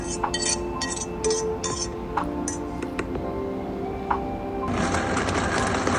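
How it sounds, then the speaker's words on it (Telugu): Mixer grinder whirring as it grinds paneer butter masala paste in a mixie jar, a steady mechanical hum with clinking, ticking rattles, growing louder and harsher near the end. "ఇప్పుడు దాన్ని ఇలా గ్రైండ్ చేసుకుంటున్నాను."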